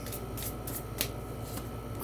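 Tarot cards riffled and shuffled by hand in a steady run of soft papery flutters, with a crisp slap about midway, close up and without talk.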